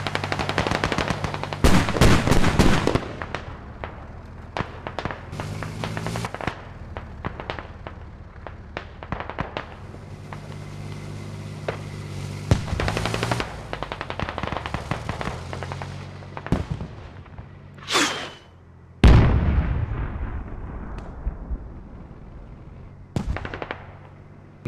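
Gunfire and machine-gun bursts in the video game Squad during a 50 vs 50 infantry match: loud, sharp automatic volleys and single cracks recur irregularly throughout, with occasional distant shots between them.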